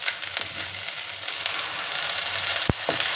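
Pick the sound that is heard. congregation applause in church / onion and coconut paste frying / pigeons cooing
onion and coconut paste frying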